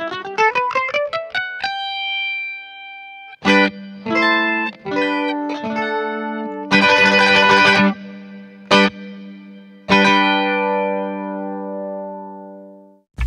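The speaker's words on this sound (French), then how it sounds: "on a vu qu'il était tout à fait possible d'avoir un ampli virtuel au son correct" An electric guitar runs through a virtual amp in Ableton Live. Quick picked notes give way to ringing, distorted chords and single notes that sustain and decay. One dense strummed burst sits in the middle, and the playing is loud and close with no talking.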